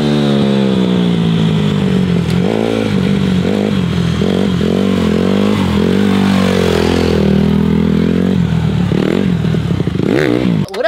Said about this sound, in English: today's video, we're gonna be learning how to swerve the bike.